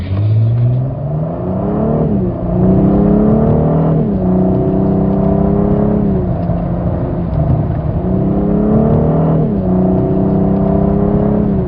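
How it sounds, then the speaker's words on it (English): A 2014 Cadillac CTS engine revs up smoothly in repeated gear-by-gear climbs, a steady moderate acceleration with a continuous low rumble and no voices. "This is a moderate acceleration, and the car sounds smooth, powerful, and refined."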